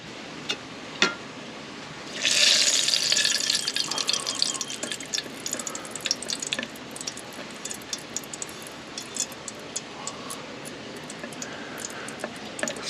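Jute twine wick bubbling in melted wax for a brass slow match, a soft close simmer of small pops and ticks that swells after a couple of seconds and then settles to scattered crackles, with no talk.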